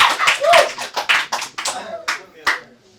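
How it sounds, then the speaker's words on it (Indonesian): A few people clapping on a talk show, sparse sharp claps at close range tapering off, with a voice talking over them. "Tepuk tangannya lagi dong ini."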